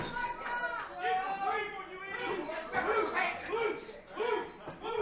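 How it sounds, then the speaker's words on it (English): A wrestling crowd in a Kentucky or Tennessee arena barks like dogs in rhythmic, repeated woofs, loud and massed, with commentary voices talking over the chanting. "they're barking like dogs out here in Kentucky, Tennessee, barking for the Atomic Dog"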